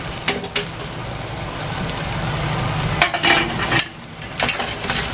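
Goat brain (maghaz) fries in a pan with a continuous sizzle while a utensil stirs it, giving several scraping clatters against the pan close by.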